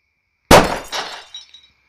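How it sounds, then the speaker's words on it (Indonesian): A small firecracker bursts against a glass: one sharp, loud crack with instant shattering, followed by a short ringing scatter of falling shards that dies away within about a second. "Coba petasan kecil dulu. Apakah gelas ini pecah semua?"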